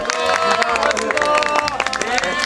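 A film crew on set of the Korean drama The Haunted Palace applauds after wrapping a scene, crowd clapping and cheering close by, with voices talking over the claps.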